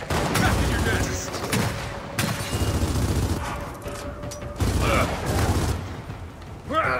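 Heavy automatic gunfire and shots in the co-op shooter Gears of War 4, loud sustained bursts broken by short pauses and mechanical clanks, with a player's voice occasionally over the battle.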